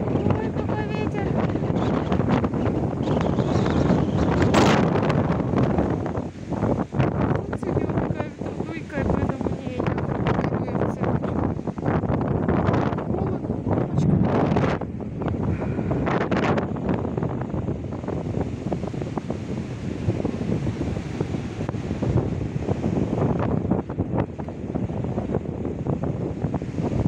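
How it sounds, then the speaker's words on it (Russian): Strong storm wind at the sea off Lloret de Mar, Spain, buffeting the microphone in heavy continuous gusts with surf beneath, while voices talk intermittently over it. "Ой, какой ветер."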